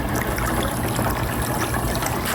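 A pool cleaner churning and bubbling up water in a backyard pool beside the steps, giving a steady, dense gurgling wash that continues without a break at close range.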